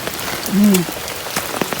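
Steady rain patters across the whole stretch on a farm during flooding, a dense hiss with a few sharper drops, while a brief low croak-like tone rises in the middle.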